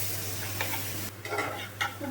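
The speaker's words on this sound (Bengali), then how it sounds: "চলে গেল পেঁয়াজ।" Chopped onion sizzles in mustard oil in a pan, a close and steady fry with a few scraping stir strokes, and there is a low hum underneath. No one talks.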